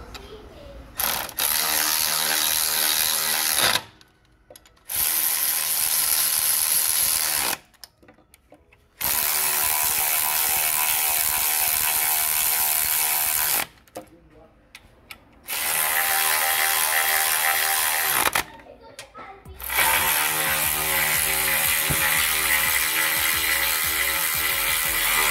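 Ratchet wrench tightening bolts on a 2014 Mazda 2 during a clutch replacement, with loud, close rapid clicking in several long runs separated by short pauses.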